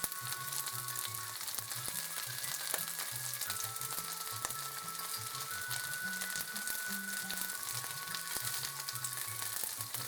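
Morel mushrooms fry in a pan with a steady, dense sizzle close by, faint clicks and scrapes now and then as pieces are turned with a fork, over a low pulsing hum.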